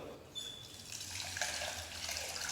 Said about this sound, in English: Now we will wash the rice till we get the clear liquid